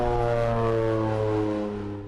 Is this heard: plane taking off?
yes